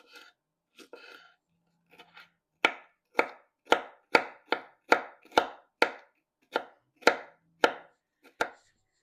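A knife chops a green pepper finely on a board: a few soft initial cuts, then a steady series of about a dozen crisp, evenly spaced chops close up.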